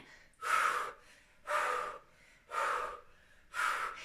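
Someone breathes deeply during a body-sculpt workout, four strong airy inhalations coming about once a second. Each is close and loud, with quiet pauses in between.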